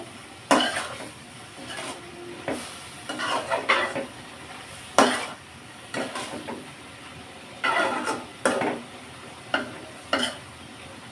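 Spiced bread toast mixture made with milk and egg frying in a pan while a utensil stirs and scrapes it, giving repeated loud scraping bursts over a steady low sizzle.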